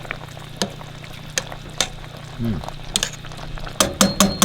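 Collard greens simmer in a pot with a ham hock, pecans and Rotel, a low bubbling under a string of sharp utensil clacks and taps that grow busier toward the end.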